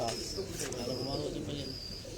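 A pigeon coos softly on a rooftop among a group of pigeon-keeping friends, its low calls sitting under nearby talk, with a few thin higher chirps above.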